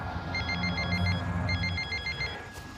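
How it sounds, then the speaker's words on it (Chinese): A telephone rings unanswered in two bursts of repeated trilling bell tones, steady and fairly close, against a low rumbling background, then stops. "怎么不接电话呀？"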